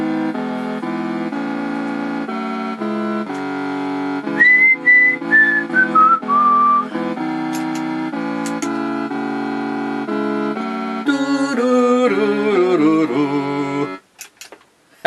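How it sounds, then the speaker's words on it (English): Japanese national anthem rendered as a chiptune melody from a Summer Games computer game, slow sustained electronic tones with a bending phrase midway, steady and loud before cutting off near the end. "let's just hear the Japanese national anthem"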